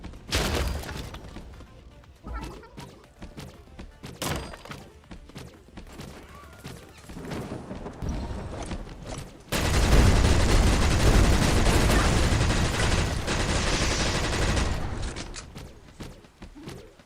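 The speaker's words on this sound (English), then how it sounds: "he had the missiles too!" Scattered missile launches and blasts in the battle royale game Skillshot City, sporadic sharp cracks at first, then a sustained loud barrage of explosions and gunfire roaring for several seconds before tapering off.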